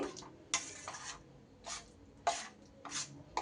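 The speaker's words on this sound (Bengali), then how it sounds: "খুব ভালো করে এটা মিশিয়ে নিতে হবে" A spoon scrapes and stirs through a thick mango kasundi mixture in a bowl, about five distinct raspy strokes at an uneven pace, close and fairly quiet with no talking.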